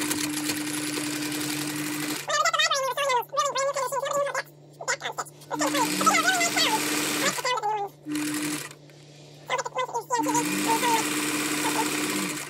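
A sewing machine stitching a pillowcase runs in several loud rapid bursts of mechanical whirring, stopping and restarting, with a steady low hum between runs and a voice talking in the pauses.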